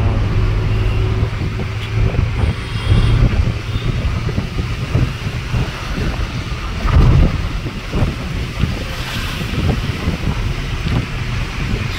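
A sea breeze at Marine Drive beach at night gusts across the microphone in continuous low buffeting, with a faint rumble of passing vehicles underneath.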